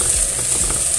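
Spices sauté in a hot pan for a bitter melon (pare) vegetable dish, giving a steady, close sizzle with faint stirring scrapes and no voices.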